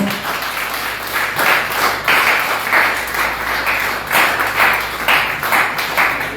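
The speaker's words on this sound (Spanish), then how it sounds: "Le damos palmas al Señor" A church congregation clapping during a Sunday service, loud, fairly regular claps in swelling bursts roughly once a second that continue through the clip.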